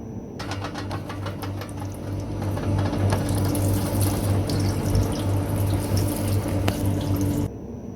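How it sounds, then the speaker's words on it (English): Water drains steadily from the red stopcocks of a Maquet HCU 40 heater-cooler unit during its disinfection procedure, a continuous close splashing flow over a low machine hum, with a faint ratcheting tick near the start and no voices. "It's draining now."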